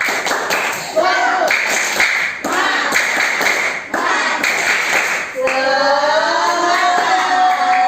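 A group claps sharp rhythmic patterns in unison, pausing between bursts while voices chant along, ending in sung calls.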